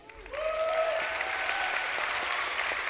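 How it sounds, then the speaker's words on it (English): A live audience at a panel discussion on making the world accessible for people with disabilities bursts into steady, sustained applause. The clapping rises quickly and stays full throughout, with faint cheering tones near the start. "Big round of applause for these brilliant women."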